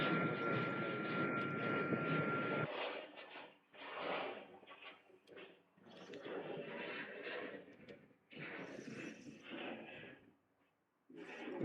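Jet airliner engines spooling up for takeoff on the runway at Washington Dulles, a loud steady rumble for a few seconds that then breaks into quieter, uneven bursts of engine noise and radio chatter.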